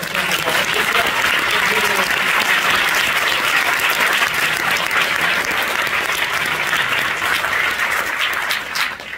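Sustained, loud audience applause fills the whole stretch at a film festival closing ceremony in Strasbourg, with dense steady clapping and faint cheering, gently tapering at the end.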